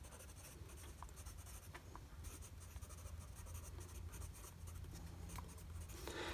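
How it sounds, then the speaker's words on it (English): A Blackwing Palomino graphite pencil scribbles continuously on Lamy notebook paper, a close, soft scratching that runs steadily for several seconds with no speech. "I'm just going to do a scribble there because I'm going to test the erasing on this paper."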